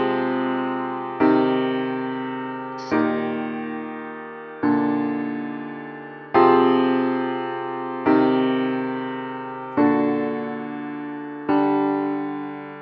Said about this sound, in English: that is being played in Contact in the Pearl Concert Grand Library